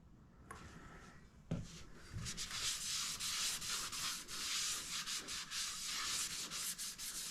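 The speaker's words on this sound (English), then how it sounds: "then we'll turn on the lathe to polish it up" A wood lathe spins up while a maple burl dish is polished with a finish, giving a steady, dense rubbing hiss that begins after a short thump and continues alone to the end.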